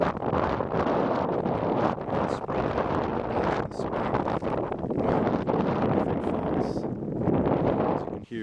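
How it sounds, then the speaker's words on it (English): Gusty winter wind outdoors roars across the microphone in continuous rumbling bursts, loud and close, with a few brief lulls and nothing else clearly heard. "here it's a little windy, a little nippy"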